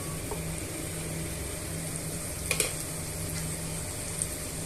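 Finely chopped tomato with ginger garlic paste frying in a pan for a masala egg omelette, giving a steady soft sizzle throughout with a couple of brief stirring clinks, no talk.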